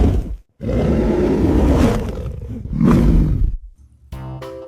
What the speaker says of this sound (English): Oh, a bear has appeared.